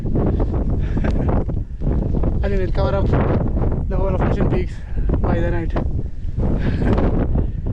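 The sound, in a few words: wind on Mission Peak summit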